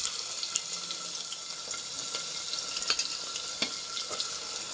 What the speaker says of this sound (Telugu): ఆయిల్ కాగింది కదా. ఇప్పుడు ఇందులో ఉల్లిపాయలు పచ్చిమిర్చి వేసుకుందాం.